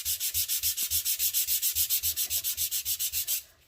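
Hand sanding block rubbed over cardstock, a quick steady run of about twenty rhythmic scratchy back-and-forth strokes, close up, ending in brief quiet.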